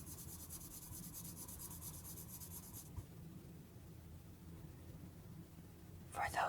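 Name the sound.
alcohol based marker coloring on paper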